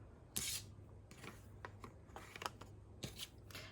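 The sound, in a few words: trimming excess tape off a paper tag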